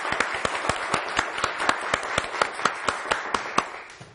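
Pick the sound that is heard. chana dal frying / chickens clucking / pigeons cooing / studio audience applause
studio audience applause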